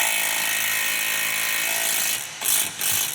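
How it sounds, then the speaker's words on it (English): A ratchet tightens the upper ball joint on a twin-turbo diesel BMW, a steady run of rapid mechanical clicking up close, briefly pausing and then resuming near the end. "Tighten up our upper ball joint."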